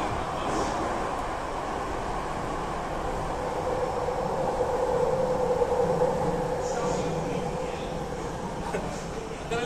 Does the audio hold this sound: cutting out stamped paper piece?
no